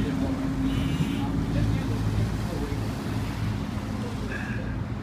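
An amphibious duck boat's engine drones steadily on the water in Boston, a low continuous rumble with a faint wash of waves and distant voices.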